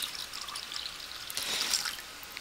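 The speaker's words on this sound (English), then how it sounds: "try to pour from high up, just as long as you don't get any on your keyboard, because that puts oxygen in the cold water" Cold water is poured from high up into a cup, a faint, steady splashing trickle with a brief louder burst near the end, heard alone without talk.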